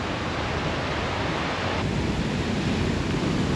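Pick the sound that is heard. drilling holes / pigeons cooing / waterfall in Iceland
waterfall in Iceland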